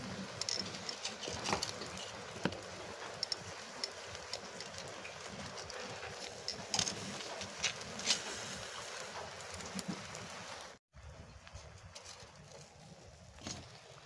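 Steady rain patters outside throughout, a dense, even hiss with scattered drips and taps, continuing without pause except for one brief dropout near the end.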